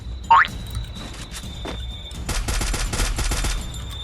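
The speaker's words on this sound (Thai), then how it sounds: "ฝั่งโน้นมียิงกัน" Gunfire in the Free Fire video game: a short springy boing-like effect comes first, followed by a dense rapid burst of automatic shots lasting over a second against a low background hum.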